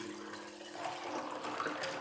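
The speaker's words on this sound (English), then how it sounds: "And then you can pour this over ice." A lemon, mint and berry drink is poured over ice, a short, close liquid stream splashing and trickling steadily, growing slightly brighter toward the end.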